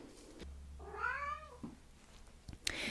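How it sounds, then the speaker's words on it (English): A pet cat indoors gives one clear, drawn-out meow close by in a quiet room, followed by a few soft knocks and rustles. "So Kitty's in the room with me now."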